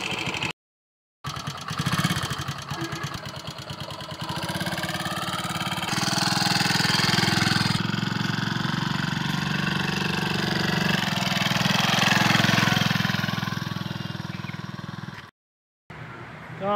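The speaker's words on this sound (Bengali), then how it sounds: "সে কিন্তু বাইক নিয়ে আর কি ঘুরতেছে" A motorcycle engine runs steadily and fairly close for most of the stretch, rising in level midway and holding a continuous drone before cutting off briefly near the end.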